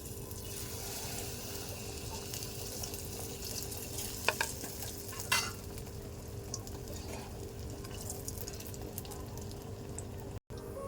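Semolina fritters (bora) for rasbora deep-frying in hot oil, giving a steady, even sizzle and bubbling hiss throughout, with a couple of brief clinks from a utensil partway through.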